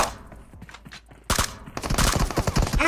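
Gunfire in PUBG Mobile, with quieter scattered shots early, then a loud, dense burst of rapid rifle fire through the second half.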